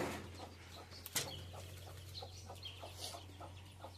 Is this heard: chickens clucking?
yes